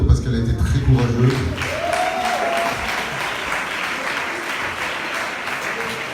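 An audience at a testimony gathering breaks into sustained applause, steady, fairly loud clapping that starts under a speaking voice and then carries on alone.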